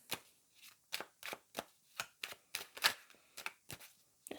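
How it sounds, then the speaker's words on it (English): Tarot cards shuffled and drawn, a quick series of about a dozen sharp, close riffling snaps spaced in an uneven rhythm, with no talk. "I will pull a couple of cards"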